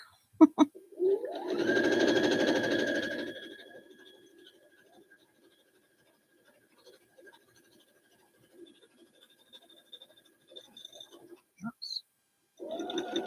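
A sewing machine stitches fabric for pillow cases made from placemats in one short steady whirring burst, followed by quiet fabric handling and scissor sounds, with a voice speaking briefly at the end.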